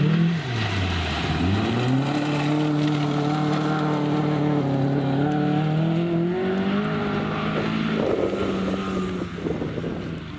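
A Volvo historic rally car runs a stage of the 2014 Mid Wales Historic Stages. Its loud engine note climbs and falls through the gears under steady wind rush.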